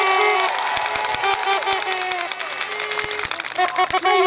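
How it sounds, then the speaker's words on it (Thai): A large crowd at a political rally in Phichit, Thailand, claps and cheers together, a dense wash of applause with voices shouting over it. "ขอเสียงปรบมือดังๆหน่อย"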